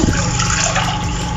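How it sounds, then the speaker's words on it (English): Water pours steadily into a cooking pot for fried rice, a loud, close, continuous gushing splash with no talk. "Now in our pot we add water"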